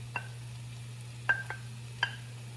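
Bitter melon cooking in a pan, with a few sparse clicks and taps of a utensil being stirred against the pan over a low, steady hum.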